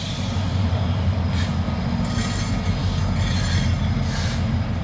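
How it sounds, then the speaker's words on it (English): A train rumbles steadily nearby, low heavy rolling noise with bursts of higher wheel screech and clatter, no talking. "I mean, you can barely hear that train."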